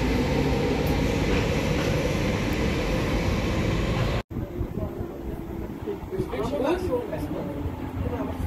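A Berlin S-Bahn train rumbles loudly into a station platform, then the noise drops away abruptly to quieter station ambience with faint voices and clatter.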